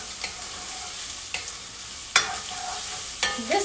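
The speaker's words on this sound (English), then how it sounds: "just sauteing" Chicken tikka ingredients sauté in a pan, a steady low sizzle broken by a few sharp scrapes and clinks of the utensil stirring at intervals.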